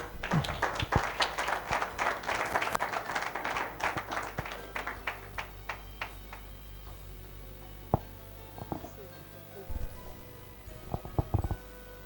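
An audience applauds an award recipient at a 2021 African schools and business meeting in Abidjan, a burst of clapping that swells and then thins into a few scattered claps.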